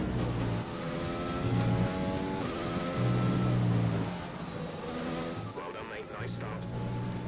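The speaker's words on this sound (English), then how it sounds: "The onboard sound actually doesn't sound that great in my opinion." Onboard engine of an F1 car in the game F1 2020, a steady mid-pitched drone that revs up and down through gear changes, loud and close throughout.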